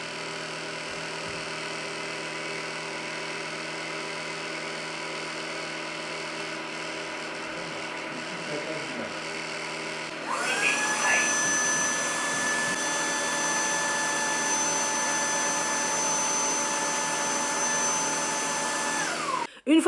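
A floor vacuum brush running its self-cleaning cycle, a steady mechanical whir that shifts to a louder, higher motor drone midway with a faint whine, then a brief clatter at the end.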